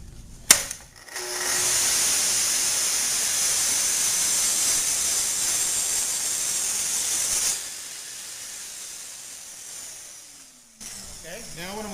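A Festool track saw rips a 10mm slice from a board, a loud, steady high-pitched whine with cutting noise held for about seven seconds, then fading as the blade spins down.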